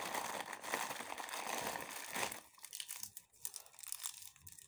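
Ration food packets from a Swedish field ration crinkle and tear as they are opened, a close, busy rustling of plastic that thins out into sparser, quieter crackles after a couple of seconds.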